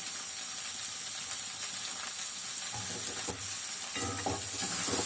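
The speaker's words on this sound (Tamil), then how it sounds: "இந்த சமயத்தில் நல்லா வதக்கிட்டுங்களா, கொத்தமல்லி கொஞ்சம் போட்டுக்கோங்க." Puffed rice snack mixture with coriander being sautéed in a pan, a steady sizzle with scraping stir strokes that grow busier toward the end, close and fairly quiet, with no voices.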